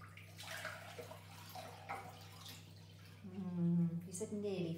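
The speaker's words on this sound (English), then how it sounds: "First, fill a bowl nearly full with water." Water runs from a tap into a bowl that is being filled for hand washing. People talk for the first few seconds, then a loud, close stream of pouring water takes over to the end.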